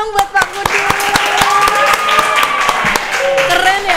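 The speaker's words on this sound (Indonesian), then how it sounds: "tepuk tangannya dong buat Pak Kudus" Audience at a school Islamic extracurricular club gathering claps for a teacher: a near, lively burst of hand clapping with sharp individual claps, while a voice speaks over it.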